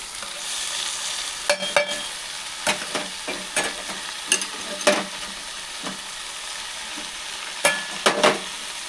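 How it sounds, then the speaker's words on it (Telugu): Spinach fries in a pan with a steady, quiet sizzle, broken by scattered louder scrapes and clinks of a spoon stirring it at irregular intervals, close by with no talking. "లైట్ ఫ్రై అయిపోయింది ఇప్పుడు పాలకూర వేసుకున్నాము"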